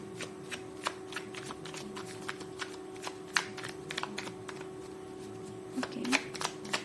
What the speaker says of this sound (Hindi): So let's pull out the tarot card.